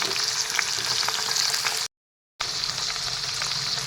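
Chicken meat fries in a pan for chicken curry with large coriander leaves, a dense, even sizzle close by, broken by one short stretch of total silence.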